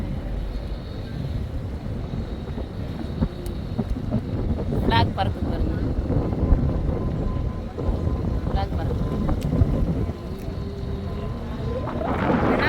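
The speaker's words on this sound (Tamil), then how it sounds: "பயங்கரமாக காற்றடிக்குது" Strong wind at sea roars across the microphone over a low boat engine drone between Masirah Island and Shana Port, Oman, with a few brief whistles and creaks rising above the steady rush.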